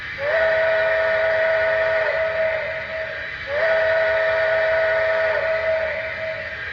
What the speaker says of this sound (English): And then here is the whistle.